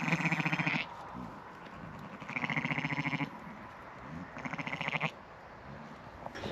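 Sheep bleat during lambing on a hill farm in Ireland, three long, wavering calls spaced a second or two apart, close and fairly loud over quiet outdoor background.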